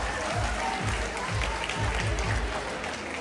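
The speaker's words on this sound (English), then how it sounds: "put your hands together for all the winners" An audience at a school prize distribution claps steadily throughout, a dense wash of applause with rhythmic low thumps underneath, fairly loud and continuous.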